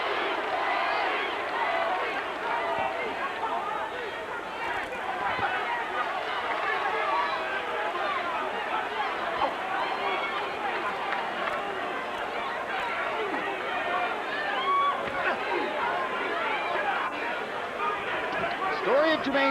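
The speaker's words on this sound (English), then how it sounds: "And a lot of the crowd is chanting, Corey, Corey, Corey." A boxing arena crowd at a Jermaine Taylor versus Spinks middleweight bout chants a fighter's name in a dense, steady roar of many voices that carries through the whole stretch with no break.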